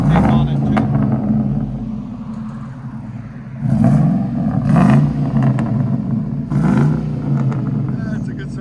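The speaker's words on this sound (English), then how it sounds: "That's a good sounding truck." Ford F-150 4.6L V8 pickup with a cold air intake and aftermarket exhaust, rumbling loudly near and swelling in three revs, with people talking over it.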